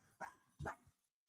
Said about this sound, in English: my dogs are getting vocal